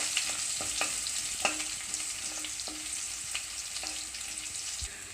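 Crushed onion, garlic and chili fry in a hot pan for a Malayalam bitter gourd stir-fry, giving a steady close sizzle with occasional sharp pops and spatters, no voices.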